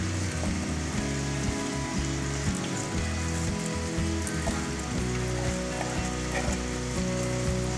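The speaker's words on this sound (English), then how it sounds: "Now I am going to add the rice for boiling." Rice goes into a pot of boiling salted water with refined oil for chicken biryani, giving a continuous bubbling, sizzling roil with faint clinks, close and fairly loud, with no talking.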